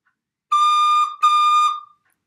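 A high D played on a recorder in two sustained, pure piping tones separated by a short dip, close and steady before fading to silence.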